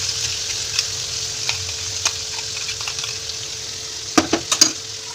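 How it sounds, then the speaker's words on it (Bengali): Whole cinnamon and cloves fry in an onion-tomato paste for a chicken curry over a full flame, giving a steady soft sizzle with scattered stirring clicks and a few sharper spoon-on-pan taps near the end; no talking. "এবার আমি এটার মধ্যে দিয়ে দেবো দারচিনি আর লং ফোড়ন দিয়ে দিলাম"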